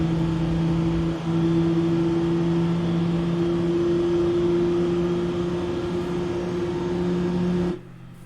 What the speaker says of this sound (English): Okay, we have a good engine start for number 2.